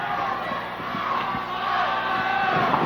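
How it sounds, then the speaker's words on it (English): Fans at a 1972 Georgia pro wrestling show cheering, a steady loud crowd roar with scattered shouts, building slightly toward the end. "The fans are cheering him on"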